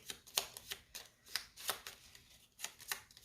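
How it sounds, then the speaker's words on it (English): A deck of cards for the Gloomhaven: Jaws of the Lion board game is shuffled by hand in a quiet room, producing a series of crisp riffling bursts spaced roughly every half second, close and fairly soft. "And we'll shuffle the Giant Snakes deck."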